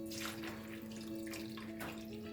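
Tap water runs steadily into a container while çiğköfte is being made, a close, constant splashing gush with no break and no voices.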